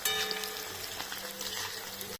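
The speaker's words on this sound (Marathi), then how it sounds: "त्या तेलामध्ये आपण सगळ्या भाज्या तळून घेऊ" Vegetables frying in hot oil for veg dum biryani give a steady, close sizzle that runs evenly and without pause, with no voices over it.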